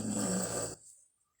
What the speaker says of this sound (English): we've got Cookie over here snoring, taking her nap